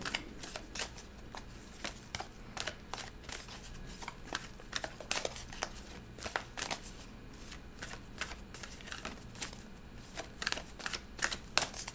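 Tarot cards riffled and shuffled by hand, a steady run of crisp flutters and taps close by, continuing without pause and with no talking.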